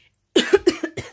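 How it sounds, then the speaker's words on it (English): A person gives a burst of several quick, harsh coughs in a row after a moment of silence. The coughs are close and fairly loud. "I'm coughing because of my hay fever."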